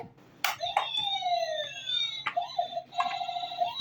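A cartoon police car siren wails with sweeping rising and falling tones, loud and close, broken by sharp clicks or knocks.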